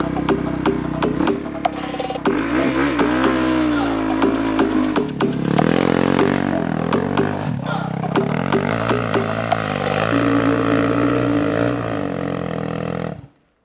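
A Surron Ultra Bee electric dirt bike whines hard up a steep hill climb, its motor pitch rising and falling continuously with throttle and load, loud and close, before cutting off abruptly at the end.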